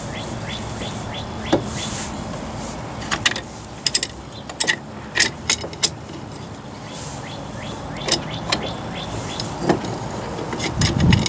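A clamp slowly forces a car's brake caliper piston back into its bore during a brake rotor replacement, giving a series of close mechanical clicks and ratcheting creaks over a low steady background.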